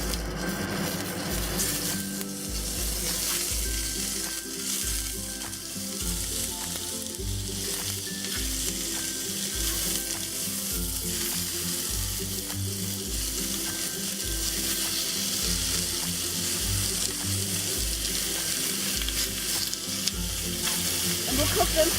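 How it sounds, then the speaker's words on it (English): Prawns frying in oil in a hot pan over medium-high heat, a loud continuous sizzle with occasional stirring clatter, close and steady, with no talk. "the first thing we're going to do is cook the prawns"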